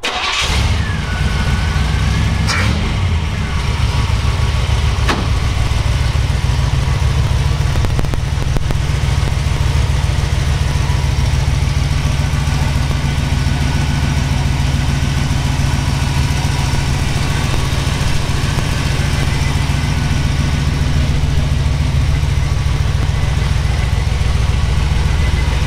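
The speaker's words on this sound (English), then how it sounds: "We're going to fire it up here for you." A cold 1969 Jeepster Commando 4x4 resto-mod with a 350 V8, just pulled from a trailer, cranks and catches within the first couple of seconds, then settles into a steady, loud, deep idle rumble that runs on alone.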